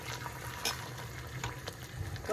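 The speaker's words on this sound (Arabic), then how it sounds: "هانتوما كنزيدو الماء غليان" Boiling water poured into a cooking pot for a Moroccan couscous dish, a steady bubbling, pouring wash close by with a few brief splashy bursts throughout, no voices.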